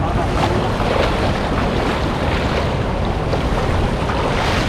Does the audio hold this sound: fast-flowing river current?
yes